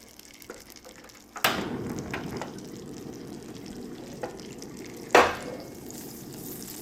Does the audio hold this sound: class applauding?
no